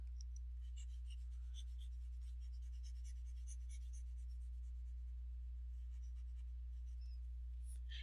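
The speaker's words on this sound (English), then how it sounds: "Let me erase all of that." A board being erased during a physics lecture, with a continuous soft scratchy rubbing made of quick repeated strokes over a steady low electrical hum.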